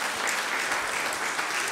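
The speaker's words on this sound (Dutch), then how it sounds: "Groot applaus," Steady applause from an audience at a youth research group presentation, a dense even wash of clapping that holds at a moderate level for the whole short stretch.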